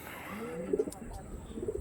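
Pure blue-bar pigeons coo softly in two low bursts, one near the middle and one at the end, over a steady background hum.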